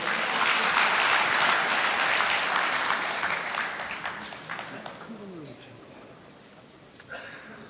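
A crowd at a construction union general assembly claps warmly to welcome a speaker, the applause loud at first and then thinning into scattered claps, with a voice briefly breaking through near the end.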